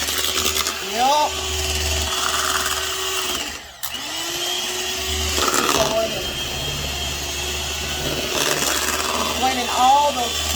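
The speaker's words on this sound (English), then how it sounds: "And let's blend this." An electric blender whirs steadily through batter flavored with vanilla, lemon, almond and butter, a continuous motor drone with a brief pause, while someone talks excitedly over it.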